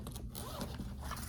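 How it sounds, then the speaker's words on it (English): A zipper on the front of a BERNINA luggage bag is pulled in a quick, close rasping run, a short burst of fabric-and-teeth scratching. "then there's zippers on the front of the bag"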